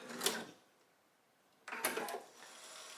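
A home sewing machine runs in two short bursts as it stitches off the end of a dart on a spring dress, separated by a brief pause and fairly quiet.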